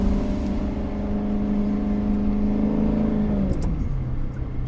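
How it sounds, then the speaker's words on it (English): A 2009 Maserati Quattroporte Sport GTS with its ZF automatic holds a steady engine drone, then blips and drops pitch on a downshift, loud and close throughout. "you just hit that downshift"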